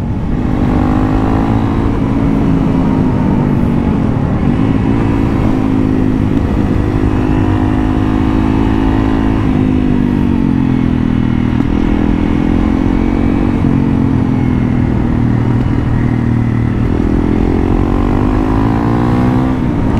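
A Honda CRF 300L motorcycle engine pulls hard while riding, its loud steady drone rising and falling in pitch as the throttle opens through corners, close and continuous with no talk.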